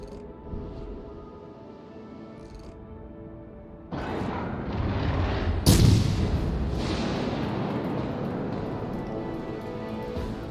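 Heavy naval guns boom from a warship in World of Warships: Legends, a sharp loud blast near the middle followed by a long rumbling roar and continuous engine-like din, with no talk.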